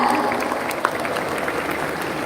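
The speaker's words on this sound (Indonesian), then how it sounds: "Beri tepuk tangan untuk Bapak Anies Baswedan" Applause from an audience at a campus event with students, honoring Anies Baswedan; a steady wash of many hands clapping fills the clip at moderate level, with one sharper clap standing out near the middle.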